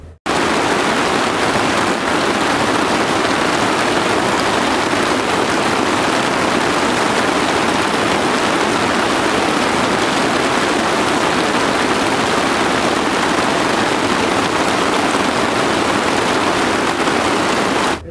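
Heavy early-morning rain pouring down in a village, a dense, unbroken roar of water that stays loud and even from start to finish.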